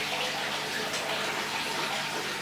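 Water pouring to fill an aquarium canister filter, a steady hissing gush that stays even and fairly quiet throughout with no talking.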